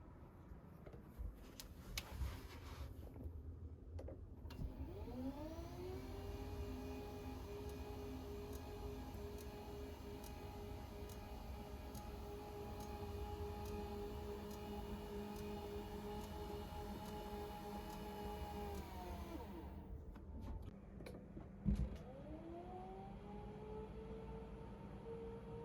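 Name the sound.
Famisky standing desk motor running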